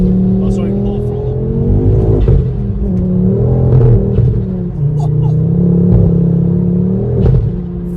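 Stage 4 Revo-tuned Ford Focus ST mk2 engine, around 400 bhp, revving under throttle from inside the car, a steady loud drone with repeated swells of throttle, heard under talking.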